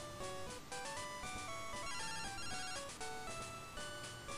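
Phone call ringing in the Game Boy game Pokémon Crystal, a fast chiptune ringtone of repeating electronic beeps over game music, steady and fairly loud, no talking.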